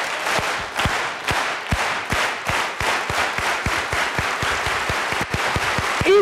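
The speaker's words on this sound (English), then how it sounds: "Let's clap it up one more time." Close, loud clapping at a social justice conference keynote in Seattle, sharp individual hand claps standing out over a steady crowd applause, continuous throughout.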